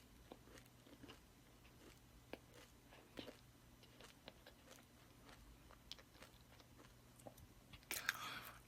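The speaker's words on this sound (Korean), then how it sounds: "이번엔 초코 없는 쪽인 연두색 쪽을 먹어볼게요." A Dubai-style kadaif pistachio macaron is eaten from its green, chocolate-free side, giving quiet, close bites and crunches with soft chewing, then a louder burst of crunching near the end.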